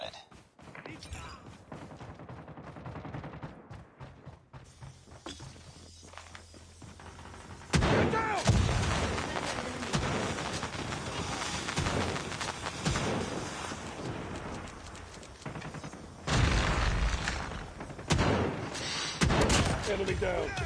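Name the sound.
Predator missile strike explosions in Call of Duty Mobile video game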